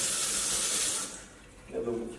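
Water runs from a two-mode kitchen mixer tap in a flat under renovation, a steady bright hiss that drops to a softer, lower splash partway through, close by with muffled voices around.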